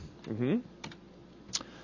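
Keys on a computer keyboard are pressed during HTML and CSS website coding work: a few scattered clicks, with a short burst of voice sound partly over them.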